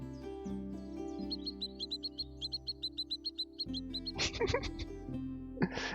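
A bird call from the board game Wingspan in its digital edition: a rapid series of bright, repeated chirping notes, with a short burst of busier trilling calls near the end.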